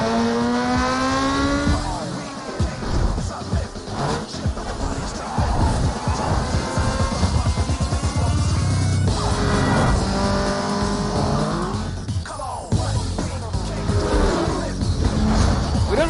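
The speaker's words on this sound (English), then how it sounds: "Here we go, that classic intro of Mitsubishi Eclipse." The Mitsubishi Eclipse intro from the racing game Need for Speed Underground: a loud, continuous sequence of revving engine, rising acceleration whines and squealing tires, with gear changes and skids layered over a driving backdrop.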